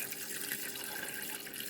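Water pours steadily into a cooking pot over coconut cream for a Samoan fish soup, a close, even splashing rush with no voices.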